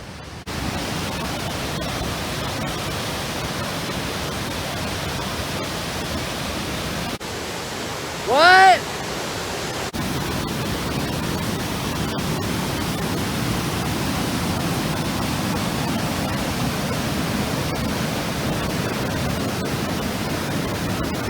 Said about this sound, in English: that waterfall did not disappoint